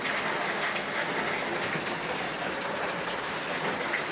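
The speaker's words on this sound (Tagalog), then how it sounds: "Ang lakas ng ulan. Sa labas ng bahay." Heavy rain from a typhoon pours down outside a house in a dense, constant hiss, loud and unbroken throughout.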